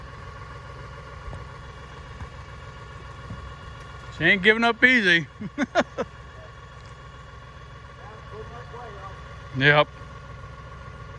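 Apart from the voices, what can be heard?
tractor engine idling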